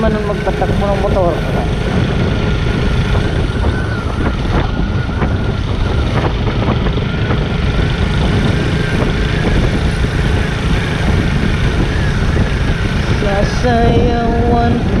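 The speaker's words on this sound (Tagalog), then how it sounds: "Tulin man nung magpatakbo ng motor." A motorcycle ridden fast along a mountain road in Sibonga, Cebu: steady loud engine drone buried in heavy wind rush throughout, recorded close from the moving bike, with faint voices at moments.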